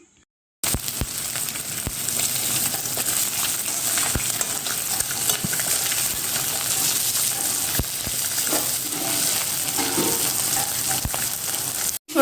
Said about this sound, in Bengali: মাছগুলো হচ্ছে কড়াইতে তুলে দিয়েছি, কারণ তেলটা অনেকটাই গরম হয়ে গেছিলো, এই জন্য মাছগুলো দিয়ে দিয়েছি। ভেজে নেব মাছগুলো এবার।